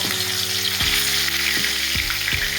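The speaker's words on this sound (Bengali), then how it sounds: "তেলটা গরম হয়ে গেছে এরপরে একে একে মাছের পিসগুলো ভেজে নেব" Katla fish pieces sizzle loudly and steadily in hot oil, a dense crackling hiss broken by a few soft clunks as pieces shift in the pan.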